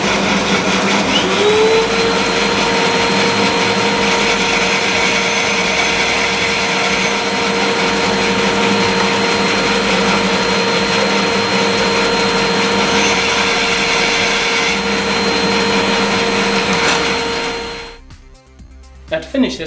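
A SIP 14-inch professional bandsaw runs loud and steady, its motor hum and blade whine holding as it cuts tenon cheeks in wood guided by the mitre slide, then winding down near the end.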